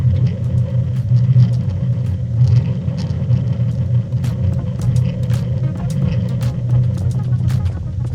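A simulated car engine revs in a racing game played on a Logitech RS50 wheel, a continuous low rumbling drone with slight surges, loud and steady, and faint mechanical ticks on top.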